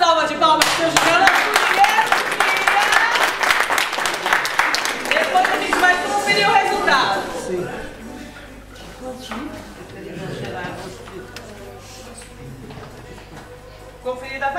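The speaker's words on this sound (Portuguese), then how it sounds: "Uma salva de palmas, senhor Juliano" Audience applause for Mr Juliano after a pressure-cooker valve is checked during a rice-cooking demonstration, loud clapping in the first seconds fading to a lower, sparser patter with talk over it.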